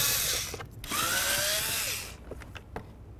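A power drill whirs in a short burst while backing Phillips screws out of a 2006-2010 Dodge Charger door panel. The motor note rises and falls, followed by a few light clicks and taps.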